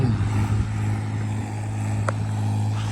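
A tractor engine drones steadily while pulling a plough set about 40 cm deep, a loud, continuous low rumble with a brief higher whine near the end and no talk.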